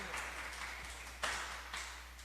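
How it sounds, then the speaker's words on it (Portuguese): A church congregation applauds, giving a moderate, fairly quiet spread of clapping heard from a distance with a few sharper bursts standing out and a low steady hum beneath it. "uma salva de palmas pela vida do Juan"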